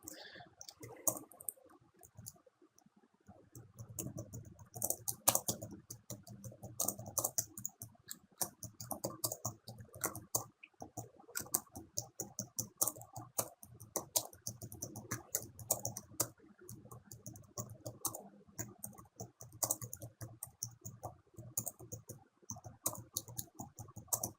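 Rapid typing on a computer keyboard, with dense, irregular key clicks and brief pauses, close and steady throughout, with no talking over it.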